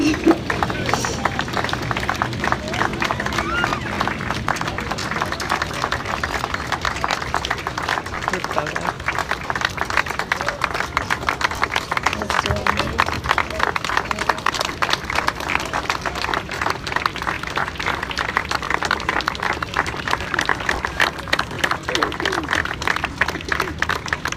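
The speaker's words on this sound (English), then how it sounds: "Please give them another round of applause." An audience claps for bone marrow donors and transplant recipients at the 2016 NYC Steps for Life 5K charity event, a long, steady round of applause from many hands that holds evenly for over twenty seconds.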